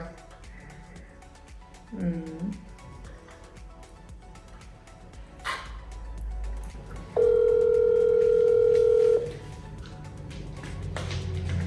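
A phone call connecting: soft clicks and faint sounds, then a steady electronic ringback tone holds for about two seconds before cutting off, leaving quiet room noise.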